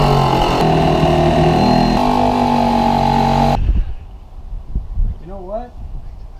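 A power tool whines loudly and steadily while cutting a hole in the side of a travel trailer, then stops abruptly partway through, leaving quieter handling noise and a brief voice.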